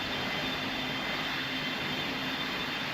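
Steady airplane engine roar during takeoff in the Roblox game Pilot Training Flight Simulator, a continuous broadband drone at constant loudness for the whole stretch with no talk over it.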